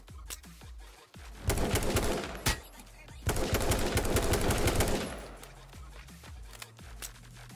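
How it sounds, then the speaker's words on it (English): Rapid automatic gunfire in the video game H1Z1, two dense bursts of fast shots, the second longer, with scattered single shots and clicks before and after. "I feel like I'm shooting too low there."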